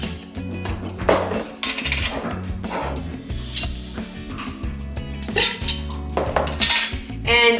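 Glass mason jars clink and knock against one another and a hard kitchen surface during chia pudding preparation, a busy run of close, bright clatters and thuds.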